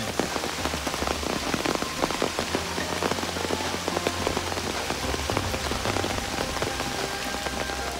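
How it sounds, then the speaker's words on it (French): Steady rain falls in the Amazon rainforest at the start of the rainy season, with a dense patter of drops on leaves and surfaces continuing evenly throughout, with no voices. "La pluie venait annoncer le début de la saison des pluies."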